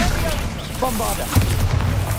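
A Bombarda explosion spell in Hogwarts Legacy on Xbox Series X: a low, rumbling blast builds in the second half beneath a speaking voice.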